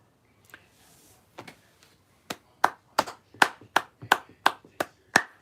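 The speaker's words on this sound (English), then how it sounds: "I'm clapping for everybody else" One person claps hands alone, near and crisp: a few scattered claps, then a steady run of about ten sharp, evenly spaced claps in a quiet room.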